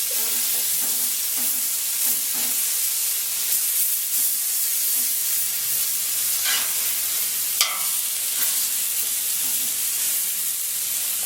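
A hamburger patty sizzling on a Blackstone flat top griddle: a steady, close hiss of frying with occasional scrapes and pops, and no voices.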